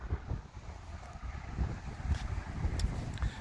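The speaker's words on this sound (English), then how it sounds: "Boy, that wind got strong." Strong outdoor wind buffets the microphone with a steady, rumbling roar and irregular gusts, loud and continuous with no voices.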